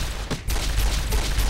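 A quick, loud volley of gunshots from a gun in Fallout New Vegas, sharp close reports packed tightly with a brief gap near the start.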